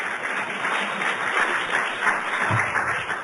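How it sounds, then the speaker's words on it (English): Audience applause rises at a Port Hueneme State of the City address, a steady, moderately loud stretch of many people clapping together with a few louder individual claps near the end. "Just give him a round of applause."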